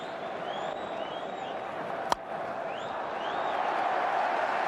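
A large cricket crowd at Melbourne during an Australia versus New Zealand one-day match makes a steady, distant roar, with faint whistles and one sharp crack midway.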